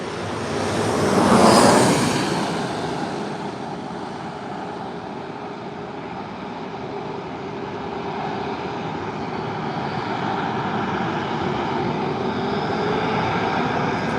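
An airplane comes in to land at San Diego airport, its engine roar swelling loud and close in the first seconds, then settling into a sustained, slightly fading rushing drone.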